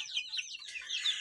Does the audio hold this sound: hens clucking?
yes